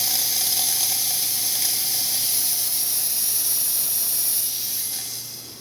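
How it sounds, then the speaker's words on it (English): Steam wand of a Rancilio Silvia espresso machine, serviced with its boiler cleaned of debris, giving a loud, steady hiss that runs several seconds up close, then tapers off at the end. "Today we're testing this Rancilio Silvia espresso machine, and let's go ahead and do some steam."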